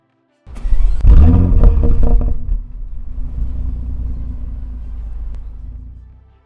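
A Bentley Bentayga SUV engine cranks and fires up with a loud roaring burst, then settles into a lower, steady rumbling idle that fades toward the end.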